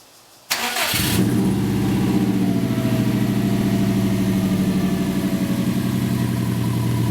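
A 2003 Subaru WRX engine with a catless downpipe cranks and fires, then settles into a loud, raspy idle with a steady low rumble and faint pulsing, recorded up close.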